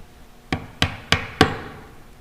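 Four evenly spaced, sharp light taps as metal string cups are gently tapped one at a time into the tailpiece holes of a cigar box guitar, close and clear, each with a short ringing decay and no speech.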